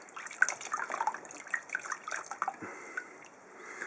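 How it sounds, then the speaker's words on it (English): Water splashes lightly in a quiet room as hatchling ball pythons are rinsed of vermiculite, soft irregular drips and sloshes close by, fairly faint and without talk. "I just kind of splash a little water on them to get the vermiculite off"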